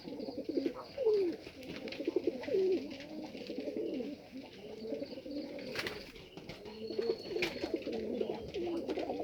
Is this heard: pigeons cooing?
yes